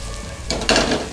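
Onion goes into olive oil in a frying pan and sizzles, with a sudden burst of hissing, a stirring scrape and a faint clink of the pan, close and brief.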